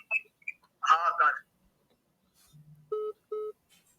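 A telephone is dialed for a call to family during a telephonic devotional satsang. A brief voice comes first, then a faint low tone, then two short, clear electronic beeps in quick succession.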